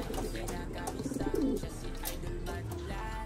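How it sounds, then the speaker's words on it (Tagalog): Pet birds being trained, one named Coco, give soft cooing calls amid a noisy outdoor background, faint and intermittent over about three seconds. "dito sa mga ibon natin na tinuturuan natin talaga"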